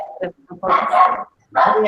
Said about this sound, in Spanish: ay, mi perro está insoportable.